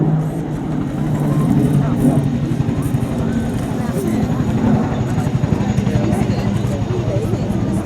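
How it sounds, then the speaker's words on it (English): A Chinook helicopter touches down in a rolling landing on a hard runway, its loud, steady rotor throb and engine roar filling the scene up close and continuous throughout. "The Chinook coming in for a rolling landing on the hard runway, touching down, and we'll shortly see them backing up."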